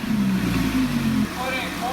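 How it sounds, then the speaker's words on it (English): Car engine with an aftermarket exhaust revving up close, a loud throaty blip that drops back to a rumbling idle, with a voice briefly audible. "Let's go ahead and give it some revs."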